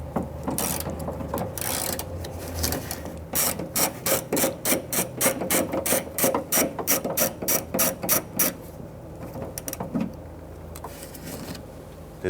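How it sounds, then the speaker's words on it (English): A socket wrench with an extension ratchets while removing the nuts on the rear exterior door handle of a 2002-2008 Dodge Ram 1500, giving close, crisp bursts of rapid clicks in quick, regular strokes, then a few slower clicks. "Use your socket and extension,"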